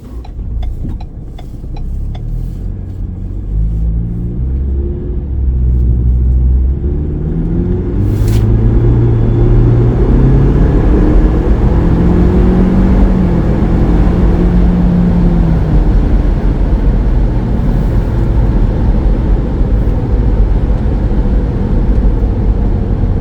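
A Ford EcoBoost car pulls hard from a rolling start in second gear under full throttle, its engine drone climbing steadily in pitch for over twenty seconds, loud and close with a constant low rumble.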